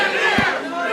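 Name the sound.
wrestling crowd reacting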